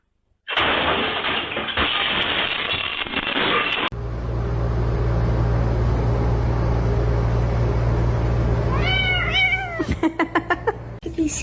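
A cat meows several times in quick, rising and falling cries near the end, close by and loud, over a steady engine-like hum and broadband noise with an abrupt shift partway through.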